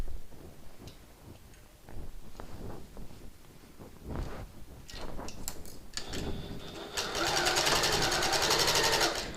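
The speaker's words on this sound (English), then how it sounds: "Okay, and we'll just sew the other side." A sewing machine stitches the side of a bag, with a few slow, spaced mechanical clicks first, then a loud, fast, even run of needle strokes close by over the final seconds.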